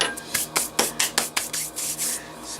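Quick, rhythmic scrubbing strokes rub sand off Traxxas TRX4 RC crawler parts, about ten close, even rasping passes in a row with no talk.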